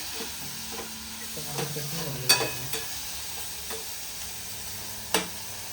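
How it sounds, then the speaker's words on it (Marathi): Salted tomatoes sizzling in a pan as Maggi is made, with soft continuous frying hiss under occasional spoon scrapes and a few sharp taps against the pan, close by and fairly quiet. "आता टमाटे फ्राय होतात."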